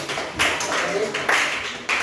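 A class claps in short bursts of applause, a few quick rounds of hands that rise and fall over about two seconds, fairly close.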